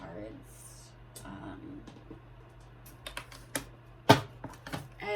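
Oracle cards are shuffled and pulled by hand, giving soft, sparse papery flicks and taps that sharpen into a few crisp snaps near the end, close up and fairly quiet.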